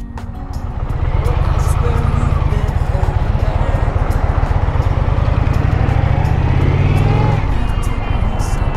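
A 2023 Indian Challenger motorcycle pulls away and rides on a road test, its engine building to a loud, steady, throbbing drone with rising revs and wind rush, close and continuous.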